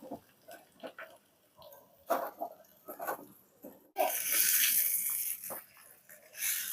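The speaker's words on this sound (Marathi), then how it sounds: "आता मम्मी पाणी टाकणार." After a few soft clinks and taps, water is poured into a pan of drumstick and dal curry on a small stove, a loud, steady gush that runs for several seconds.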